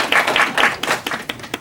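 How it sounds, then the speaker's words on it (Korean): A brief burst of hand clapping from a small church congregation during a Sunday service, quick and uneven, fading within a couple of seconds. "박수로 환영하도록 하겠습니다"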